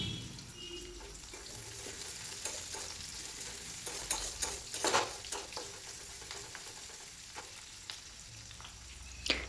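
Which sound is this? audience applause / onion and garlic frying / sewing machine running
onion and garlic frying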